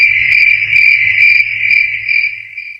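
A cricket chirps continuously in a steady, shrill high-pitched trill, close and clear, with faint pulsing bursts and no other sounds.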